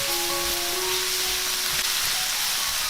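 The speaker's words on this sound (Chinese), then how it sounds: "翻炒一下就可以出锅。" Blanched spring vegetables stir-fried in a pan with sugar and light soy sauce give a steady, close sizzle of hissing frying that holds evenly throughout, with faint tonal sounds in the background.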